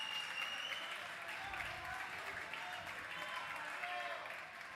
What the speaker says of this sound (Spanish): Un aplauso para Melvin.